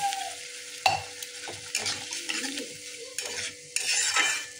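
Spices hiss and sizzle in a pan as a little water is added, with a metal spoon scraping and clinking against the pan in irregular strokes during the stirring of a Bengali drumstick, potato and pumpkin curry.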